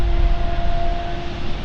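A business jet's engines spooling up at London City Airport, heard from a distance as a loud, steady roar with a sustained whine running through it.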